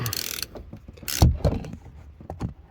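Wrench working loose the last nut on a BMW 5 Series suspension during a spring replacement: a few short, sharp metallic clicks and clanks, close up, separated by quiet gaps.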